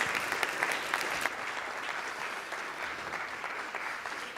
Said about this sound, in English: let's give another big round of applause for Mr. Grady Atwater